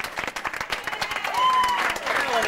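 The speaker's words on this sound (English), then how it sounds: "Ladies and gentlemen, a nice round of applause." An outdoor audience at a 1999 lawn party in Lewisville claps in a dense, steady round of applause that swells slightly partway through, with a few thin whistles rising over the clapping.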